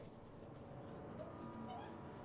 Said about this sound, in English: Lux, little dog